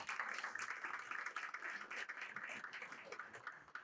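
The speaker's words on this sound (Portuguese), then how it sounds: "uma salva de palmas." Audience applause at a cybersecurity business talk, a steady wash of clapping held at a fairly even level throughout, distant and moderately quiet with no talk over it.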